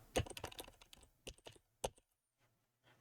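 Computer keys clatter in a short burst of close, crisp clicks, a quick run of taps followed by a couple of isolated presses and then quiet.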